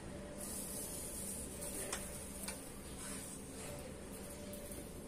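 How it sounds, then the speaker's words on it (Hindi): Mustard seeds dropped into hot oil in a kadai on a gas stove give a steady, close hiss with faint scattered crackles and pops throughout. "एक चम्मच राई डाल रहे हैं"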